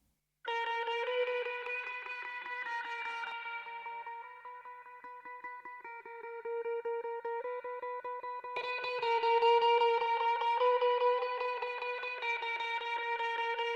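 An electric guitar played through a Tweed amp model, a copy of a Fender, with ensemble, delay and reverb, rings out in sustained, shimmering chords and notes with echoing tails, alone and fairly loud.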